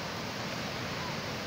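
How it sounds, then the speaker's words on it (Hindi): Rushing water in a fast, dangerous canal behind a tall wall, a dense, loud, unbroken roar of churning flow filling the whole clip. "ये सब पानी का शोर है।"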